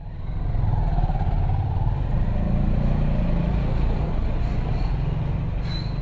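Four motorcycles on a road trip from Jessore toward Cox's Bazar and Bandarban sit running close by, a steady, loud engine drone filling the whole stretch with no pauses.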